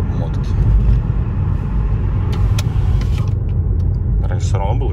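A Mazda CX-5 exhaust runs after a heat-wrap repair of the flex pipe, a steady low rumbling drone heard from inside, with someone talking over it and a few faint creaks.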